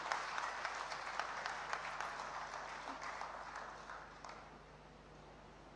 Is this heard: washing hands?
no